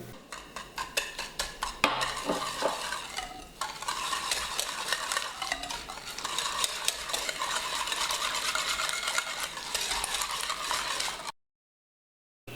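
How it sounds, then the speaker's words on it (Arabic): Three eggs plus a yolk whisked with sugar in a bowl for Moroccan fekkas biscuits, a fast continuous rattling whisk against the bowl, close and busy, ending in abrupt silence. "أضيف السكر وأخفق قليلا"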